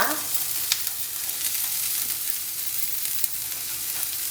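Oil sizzling on a hot dosa stone for rava dosa, a continuous bright hiss that stays even from start to finish with only a faint tap or two.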